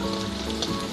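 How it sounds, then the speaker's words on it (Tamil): Onions sautéing in hot oil with cinnamon, clove and cardamom for chole, giving a steady close sizzle and crackle throughout, with no talk over it. "வெங்காயத்தை போட்டு முதல்ல கொஞ்சம் நல்லா வதக்கிக்கலாம்"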